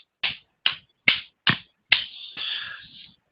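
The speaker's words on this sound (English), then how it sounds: "so they pat their lap first and then clap their hands" Hands pat a lap in a steady rhythm: four sharp, close slaps, then a fifth followed by a longer hissing swish. No talking.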